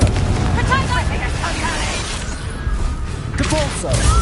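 Confringo fire spell explosions in the Hogwarts Legacy video game: loud booming bursts and rumbling blasts in rapid succession, mixed with combat effects and a shouted voice.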